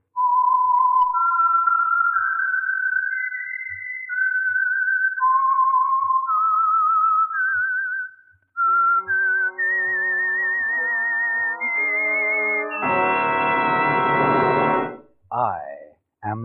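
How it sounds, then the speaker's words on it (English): A whistled melodic theme identifying the Signal Oil radio program The Whistler: a clear solo whistle climbing through a sequence of sustained notes, close and loud, then giving way to a brief dramatic orchestral swell. "the signal to listen for is this whistle that identifies the Signal Oil program"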